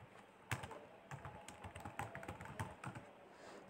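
Rapid keystrokes on a computer keyboard while entering a command into the Windows command prompt, a steady close run of light clicks with a few louder taps, no talking.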